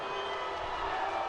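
A high school football crowd on the Chatham Glenwood side during a Friday night game against Eisenhower jeers in a steady, continuous wash of massed voices, heard from a distance.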